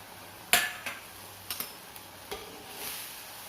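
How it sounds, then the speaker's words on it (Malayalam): Curry leaves dropped into a pan of sizzling anchovy peera (netholi), with a few sharp clattering stir strokes against the pan over a faint steady sizzle. "ഇതിലേക്ക് നമുക്ക് കരിവേപ്പിൻ്റെ ഇല ഇട്ട് കൊടുക്കാം."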